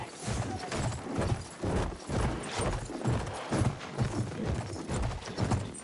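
Horse hooves clip-clopping in the first-person shooter Battlefield 1, a steady, close, rhythmic trot of regular hoof beats that continues throughout with no voices.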